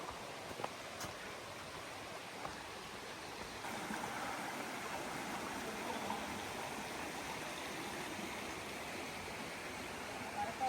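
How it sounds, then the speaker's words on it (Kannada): A mountain stream on the Kudremukha trek flows in a steady, broad rushing wash that fills the whole clip and swells slightly louder partway through. "ಮತ್ತೆ ಸೌಂಡ್ ಕೇಳಿಸ್ತಾ ಇದಲ್ಲ, ನೀರು ಹರಿಯೋದು,"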